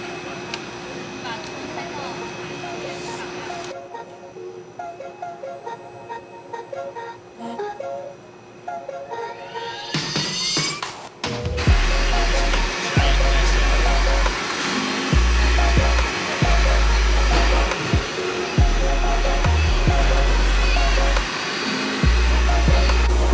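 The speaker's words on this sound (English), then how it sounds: "what we got here is our 3D printer printing our first wall." Concrete 3D printer building a wall at a construction site, a loud steady mechanical whine and blowing roar that steps up sharply halfway through, with intermittent low thumps underneath.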